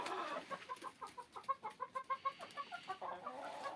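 A hen with a brown head and neck and a lighter body clucks in a rapid, rhythmic run of close, moderately loud calls at a winter dacha farmyard, with other poultry sounds faintly in the background.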